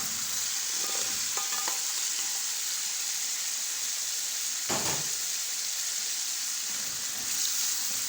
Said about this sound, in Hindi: अब हम इसमें डालेंगे पोटैटोस